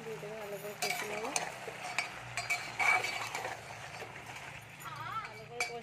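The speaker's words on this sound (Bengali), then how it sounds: "ভালো করে কষে নেবো।" A spatula stirs and clinks against a pan while fish sautés with chilli, turmeric, cumin, coriander and salt, making scattered metallic taps and scraping under frying noise, with someone talking nearby.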